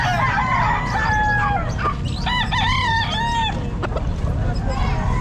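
Several Sweater gamefowl roosters crow at a busy pet market, overlapping cock-a-doodle-doo calls over constant crowd murmur and clucking, with a voice talking nearby.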